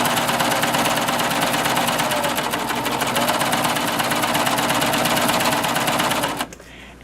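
A Baby Lock serger stitches radiance fabric in a loud, steady, rapid mechanical whir that runs close and continuous for several seconds, then stops abruptly near the end.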